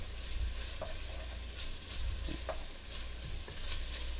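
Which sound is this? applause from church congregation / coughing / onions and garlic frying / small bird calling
onions and garlic frying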